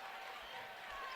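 Crowd at a varsity boys basketball game, Bentonville vs Fayetteville, cheering in a broad steady roar that stays fairly faint and distant throughout this short stretch.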